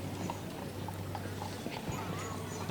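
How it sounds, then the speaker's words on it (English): Horse and carriage hooves clip-clopping steadily along a parade route, a regular rhythm of hoof strikes over crowd background and faint voices. "This is Dallas Rowan from maybe West Virginia with his horse and carriage"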